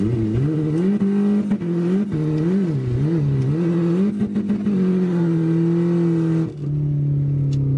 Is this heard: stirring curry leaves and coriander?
no